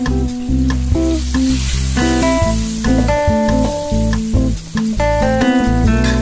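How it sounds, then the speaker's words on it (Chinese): Tofu fries in cooking oil sprinkled with salt in a wok, a steady, dense sizzle that runs throughout, close and loud, with tonal background music playing over it. "起锅放入食用油，在油里面撒上适量的食盐，将豆腐倒下去煎。"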